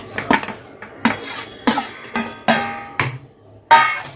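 Roasted garlic, chili and green peas tipped into a steel mixer jar, giving a series of sharp clinks and clatters against the metal, about seven distinct knocks spaced irregularly, close and fairly loud, with no talking.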